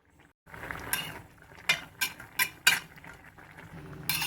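A ladle stirs coconut and cumin paste into Kerala erissery in a pot, giving a series of close metallic scrapes and clinks at an uneven pace against a soft background hiss.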